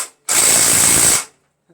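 An impact wrench dismantles a Craftsman self-propelled lawn mower with a Tecumseh 6.75 engine, firing one loud, close, rapid hammering burst about a second long, then cutting off to near silence.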